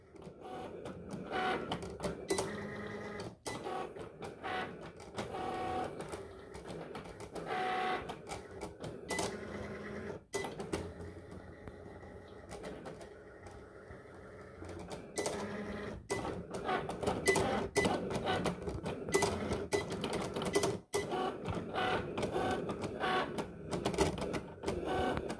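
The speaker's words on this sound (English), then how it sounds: "now I'll press the Cricut button. And then just let it do its thing." A Cricut machine cuts a vinyl stencil, producing a busy, rhythmic run of whirring carriage movements and clicking, ticking bursts with brief pauses, continuing steadily for about twenty-five seconds at a moderate, close level.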